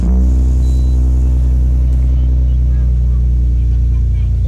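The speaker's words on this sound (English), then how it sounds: "start the car." A Nissan Skyline R32 GTR engine running close by, a loud, steady low rumble with a constant throaty drone throughout.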